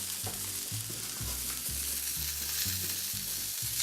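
Lamb loins and eggplants searing in a pan make a steady, close sizzle with a rhythmic low bumping of food shifting in the pan throughout.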